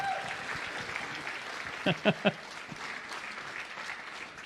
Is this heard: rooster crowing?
no